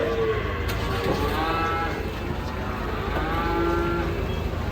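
Jumbo cattle low and moo in long drawn calls, several overlapping, loud and close, against a constant crowd and engine hubbub at a livestock market while the animals come down off a truck.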